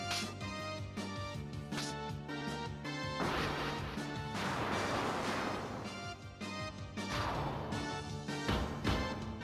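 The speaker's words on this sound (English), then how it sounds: "I just love the sound the hammer makes." Loud, dense crashing and smashing impacts from a video game, repeated heavy hammer hits over a busy music-and-effects background.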